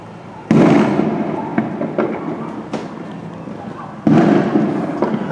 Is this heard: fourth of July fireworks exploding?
yes